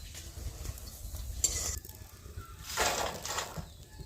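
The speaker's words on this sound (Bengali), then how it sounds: "এবার আমি একই রকম ভাবে সব বুন্দিয়াগুলো ভেজে নেব।" Boondi drops of gram flour batter frying in hot oil in a wok, a steady soft sizzle with faint stirring and utensil clinks, brief louder bursts of bubbling midway, close and continuous with no talk.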